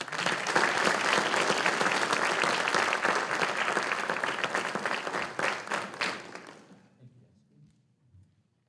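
Dense, sustained applause from an audience at a high school senior recognition night, steady and full for several seconds before tapering off and fading to near silence with a faint voice at the end.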